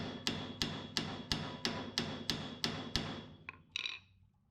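A hammer taps a car transmission mount in a shop, about nine evenly spaced sharp metallic knocks at close range, then a softer tap and a last ringing hit before the sound stops.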